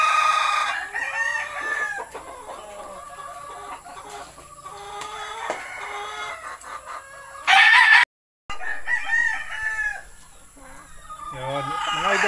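A white Boston gamefowl stag rooster crows close by in several drawn-out calls, with clucking from other chickens around and someone talking briefly.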